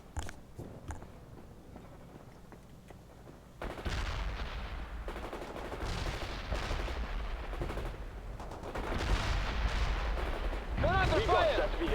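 Artillery barrage from the real-time strategy game World in Conflict, a steady layer of booming gunfire and blasts that swells louder partway through and continues under game music and unit chatter.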